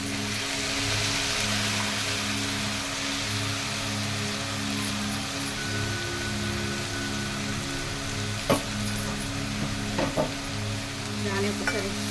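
Bottle gourd and soaked moong dal curry is stirred in an oily pan, a steady close sizzle running throughout with a few sharper scrapes and clinks of the spoon near the end.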